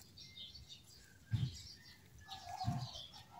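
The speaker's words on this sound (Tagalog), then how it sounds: "Ang dami kasing ibon dito" Garden birds flutter and chirp in a lettuce, pechay and mustard plot. Two short bursts of wing flapping stand out against faint, scattered chirps and coos, and the whole scene stays quiet and moderately distant.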